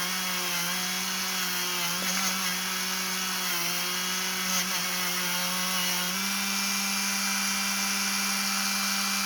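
A Dremel rotary tool grinds paint off the metal of a Coleman 252 military lantern, a steady high-pitched whine with brief dips in pitch as it bites, close and continuous throughout with no talking.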